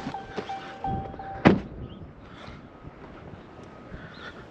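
Strong gusts buffet the microphone outdoors on a residential lawn-mowing route, a steady rushing roar broken by one sharp thump, with no talking.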